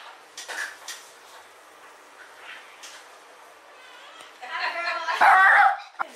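Small dogs yip and whimper in a few brief, moderately close bursts, with the loudest cluster near the end, mixed in with people chatting in a room.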